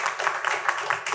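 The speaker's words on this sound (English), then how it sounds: "I should get more time for the claps" Audience clapping at a public college district board meeting, a brief burst of scattered, moderately loud handclaps from a small room crowd.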